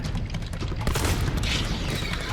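Gunfire from the video game Hunt: Showdown, a dense, loud barrage of overlapping shots that fills the whole short stretch with no clear gaps between reports.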